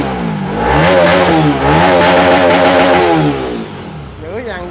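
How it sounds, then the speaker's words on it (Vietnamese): A 200cc motorcycle engine revs up and down several times with a rough, throaty roar, close by, with a person talking over it. "nổ máy em này cho quý anh chị mình nghe thử cái tiếng phân khối 200"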